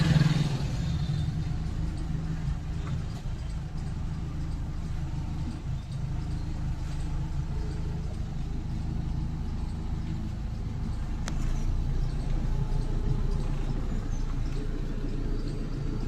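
A car creeps forward slowly during a driving-school steering lesson, giving a low, steady engine hum and road rumble heard from inside the cabin, with faint clatter and no talking.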